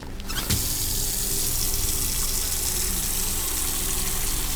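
Water runs from a tap into a container in a morgue during an autopsy, a strong steady gushing splash that starts abruptly and pours on continuously at close range without any talk.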